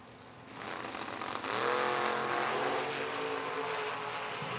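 Justin Moser's Roadster Corvette chasing off the line in a drag race, the engine droning at first, then surging into a loud, rising roar that holds steady, with no voices.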